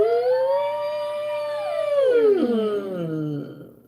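A singer's voice imitates a siren in a vocal warm-up exercise, one continuous tone holding high before sliding smoothly down in pitch, clear and alone, fading at the end.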